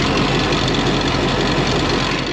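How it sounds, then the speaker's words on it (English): A noisy tensioner pulley runs on an LBZ Duramax diesel engine, a loud constant rattling, grinding clatter mixed with the close, steady engine drone. "wow, that tensioner pulley is insane"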